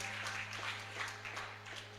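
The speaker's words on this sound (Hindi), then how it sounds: "एक बार तालियों के साथ इनका स्वागत किया जाए।" A crowd claps steadily to welcome donors at a Shrimad Bhagwat katha gathering. The applause is faint and distant over a low steady hum, with no voices.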